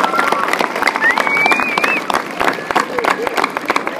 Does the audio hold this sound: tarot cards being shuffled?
no